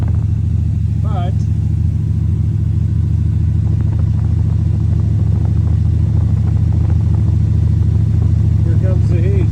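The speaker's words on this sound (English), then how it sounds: "The fuel pump's really loud." A 1940 Ford engine idles with a steady, loud low rumble and a constant droning fuel pump, close up, while a voice speaks briefly over it and faint rattles come through.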